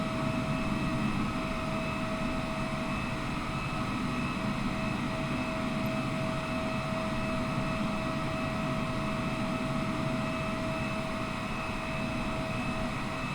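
Steady engine drone of a light aircraft, likely a Cessna, in a flight simulator flying Heathrow to Schiphol, a constant broadband roar with a fixed whine held level and unbroken throughout.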